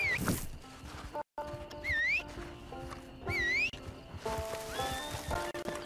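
A horse in the Red Dead Online video game neighs and whinnies several times in rising, wavering calls, along with whistle tones and hoofbeats, set against game ambience, with short dropouts.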